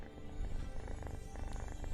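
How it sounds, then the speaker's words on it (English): A small cat purrs close by, a steady low rumbling throb with a faint rhythmic pulse, quiet and continuous with no talk over it. "You might be able to hear her purring."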